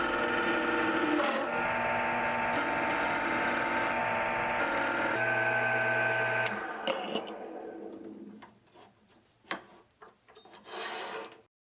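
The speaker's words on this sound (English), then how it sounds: "I will now turn the ring blank down to the proper size, which is flush with the two core pieces." A wood and stainless steel ring blank on a lathe is turned down to size, giving a loud scraping, rasping cut in bursts that gives way to quieter intermittent ticks and scrapes as the tool backs off.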